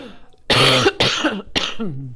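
A person clears their throat with a couple of rough, voiced bursts, close up, each followed by a brief pause.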